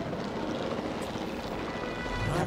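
A helicopter in the dinosaur-park game Jurassic World Evolution 2 produces a steady, dense whooshing drone at moderate level, unbroken and without speech.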